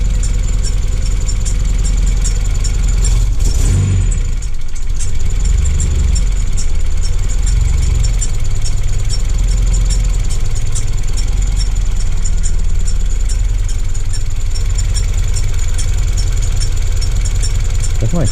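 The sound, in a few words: car engine idling with suspected faulty tensioner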